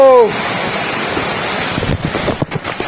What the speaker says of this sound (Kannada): ರೋಡ್ ಸೈಡಿಗೆ ನೋಡ್ಬೋದು ಸಗತ್ತಾಗಿ ನೀರು ಬೀಳ್ತಾ ಇದೆ